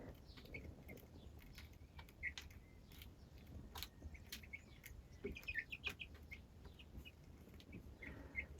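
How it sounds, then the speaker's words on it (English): Small chicks chirp and tweet in a series of brief, high peeps scattered throughout, fairly close, over a steady low background hum with no talking. "it kept making lots of noise, tweeting noise"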